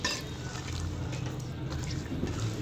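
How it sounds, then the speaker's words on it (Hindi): Potatoes and peas sautéing over a medium flame in a pan, with a steady low sizzle and occasional scraping and stirring clinks of a utensil against the pan, close up, with no talking. "आलू मटर ऐड कर लेने के बाद मैंने इसे 5 मिनट के लिए मीडियम फ्लेम पे भून लिया था"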